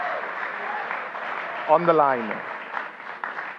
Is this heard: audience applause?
yes